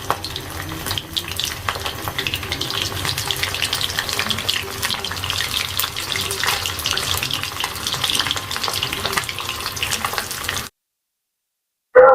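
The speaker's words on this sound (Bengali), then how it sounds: "এখন তেলে ভাজার অপেক্ষা" Marinated stingray fish pieces spiced with garam masala and olive oil sizzle steadily in hot oil, a dense continuous crackle running about ten seconds before a brief silence and a short final burst.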